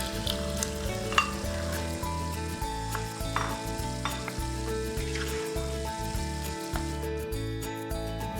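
Chunky chilli beef fries in a pan with onions, spices, chilli and tomatoes, making a steady, close sizzle with faint stirring and no talk.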